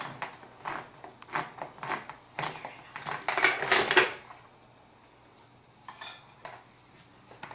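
Tomato paste being mixed into a pan with a utensil, giving a run of sharp clinks and scrapes that thicken into a dense burst, then fade to a few light taps.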